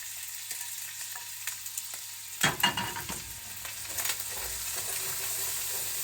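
Meat and egg frying in a pan with garlic powder, a low steady sizzle and a sudden louder crackle as food is stirred midway, then settling back to a gentle simmering hiss, close and quiet.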